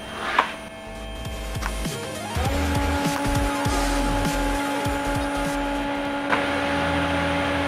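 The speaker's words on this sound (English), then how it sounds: "You've got to keep the gas on it after you've stopped welding, otherwise it goes bad." TIG welding on a stainless steel tube: a steady electric hum and buzz, close and moderately loud, with intermittent clicks and crackles throughout and a sharp pop near the start.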